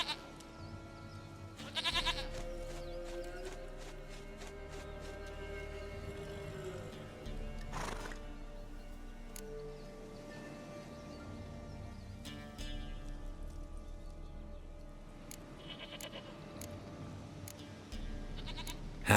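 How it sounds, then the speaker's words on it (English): A goat bleats repeatedly in The Witcher 3, several drawn-out bleats over a steady bed of game music and ambience, fairly clear and close. "Goat of mine, dearest, sweetest goat."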